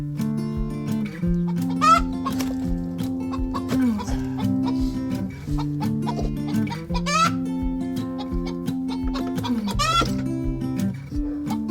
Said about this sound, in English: noisy chicken over here